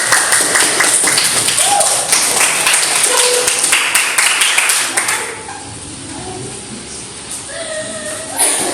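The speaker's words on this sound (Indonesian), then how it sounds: "Beri tepuk tangan teman-teman." Classmates in a classroom clap for a group about to present, a dense burst of applause for several seconds that thins out and fades, with faint voices beneath.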